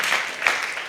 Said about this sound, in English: Can we have a round of applause for the parents that are here?